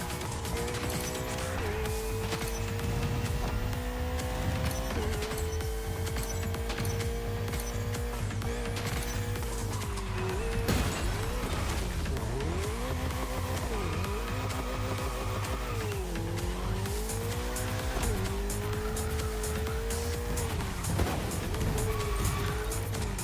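A car drifting in The Crew Motorfest racing game, with a loud sustained engine whine rising and falling through gear changes and long tire squeals, continuous and close for over twenty seconds, with no talking.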